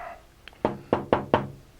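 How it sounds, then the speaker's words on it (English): Metal shavings knocked out of a tap while fitting Carter guides to a Porter Cable band saw: one light tap, then four sharp knocks in quick succession, close and clear. "Knock out the shavings."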